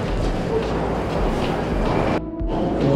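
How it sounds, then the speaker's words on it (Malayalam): A Moscow Metro train rumbles through an underground station, a low, steady mechanical roar of wheels and motors that cuts out abruptly near the end before the noise returns. "ഇവിടെ അടുത്ത ലൈനാണ്, രണ്ട് ഭാഗത്തും ട്രെയിനുകൾ വന്നു പോകുന്നത്."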